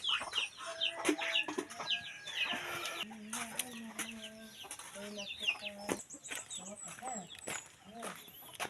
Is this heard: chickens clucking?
yes